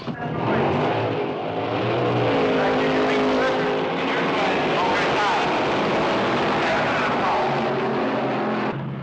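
Cars roar in a race scene from a 1959 horror B movie, engines droning loud and continuous with shifting revs, while voices talk over the engine noise.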